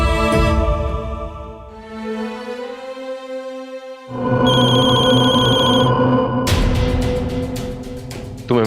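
A telephone rings inside a home in an Indian crime drama, sounding as steady electronic tones over a bed of music, with a brighter ring pattern entering midway. No one speaks.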